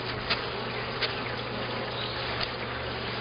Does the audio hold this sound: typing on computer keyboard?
no